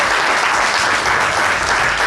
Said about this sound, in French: Une annonce et un tonnerre d'applaudissements